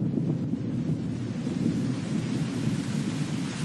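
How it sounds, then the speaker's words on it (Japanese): Heavy rain mixed with a deep, continuous rumble of thunder, a dense low roar with hissing downpour that stays steady and loud throughout, with no voices. "雨にござりまするか。"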